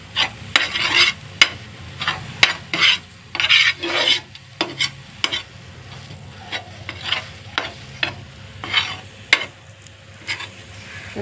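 Eggplant fry with crushed peanuts being stirred in a pan, a series of close scraping, rasping strokes with light sizzling beneath, uneven bursts that grow sparser toward the end.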